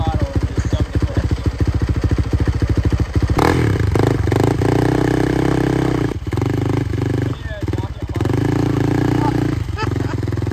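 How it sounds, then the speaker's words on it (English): Dirt bike engine revved hard at full throttle with the clutch dumped, a loud, close rattling roar with rapid firing pulses that surges and swells, while voices talk over it. "I just give it full throttle and just dump the clutch."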